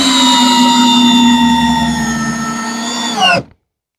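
A drill drives a screw with a loud, steady, high motor whine that holds for over three seconds, then winds down and cuts off abruptly into silence.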